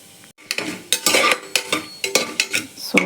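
Fennel, cumin, cinnamon, cloves and cardamom sauté in oil for vegetable biryani, heard as a rapid series of close, bright scraping and sizzling bursts stirred in a quick rhythm after a brief quiet start.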